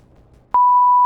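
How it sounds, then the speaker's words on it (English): A censor bleep: a single steady pure tone starting abruptly after a short quiet pause and holding loud and alone to the end. "Okay, we'll beep it."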